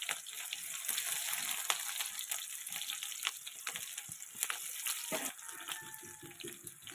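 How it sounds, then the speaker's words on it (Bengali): Onions frying in hot oil seasoned with kalo jeere, a steady hiss with faint crackles and pops that holds evenly at moderate level throughout, with no voices. "তারপরে দিয়ে দেব পেঁয়াজটাকে লাল লাল করে ভেজে নেব।"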